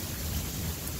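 Thunderstorm with lightning: a steady wash of heavy rain and a deep low rumble of thunder fill the whole second, continuous and fairly loud, with no voices.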